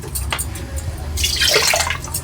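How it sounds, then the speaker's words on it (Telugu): Water poured into a pan of thick milk while cooking paala thalikalu, a close splashing pour that swells loudly in the second half of the moment. "వాటర్ వేసుకుందాం మనము."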